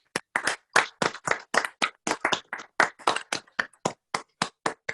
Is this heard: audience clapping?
yes